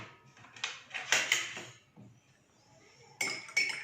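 A spoon clinks and scrapes against a bowl while ingredients such as sugar, black pepper and salt are mixed at home, in a few irregular bursts of close clatter with quiet gaps between them.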